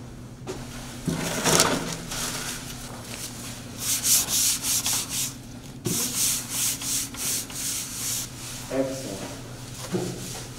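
A paper towel scrubs across a desk surface in a run of quick rhythmic rubbing strokes, close and fairly loud, with short pauses between bursts.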